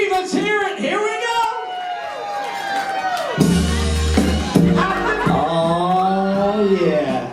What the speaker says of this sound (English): Everybody make some noise. It's New Year's Eve. Let's hear it.